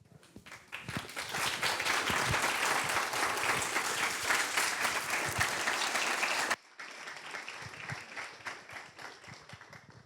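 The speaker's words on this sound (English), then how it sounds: "Let's give Dr. Alveda King another round of applause" A crowd at a talk on the legacy of Martin Luther King Jr. breaks into loud, sustained applause that swells and holds, then drops abruptly to softer, thinner clapping near the end.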